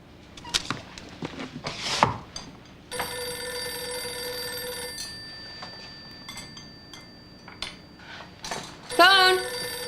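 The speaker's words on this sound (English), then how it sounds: "Phone." An old-fashioned telephone rings indoors in a film, two bursts of bell ringing, the first long and the second short, amid soft rustling and movement.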